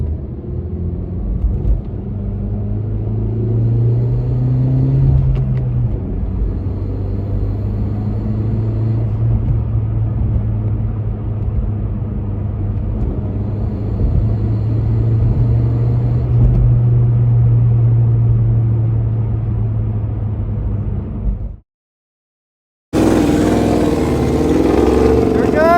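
A turbocharged car with a boost leak pulls hard, its engine holding a loud, steady droning rumble for about twenty seconds with slight pitch rises, then cutting off abruptly before resuming briefly at the end.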